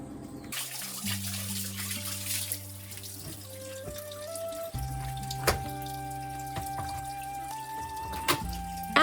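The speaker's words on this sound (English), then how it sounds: "After I finish washing the vegetables" Tap water runs continuously into a sink as vegetables are washed in a rural Vietnamese home, a steady close splashing stream with faint tonal background sounds and no talking.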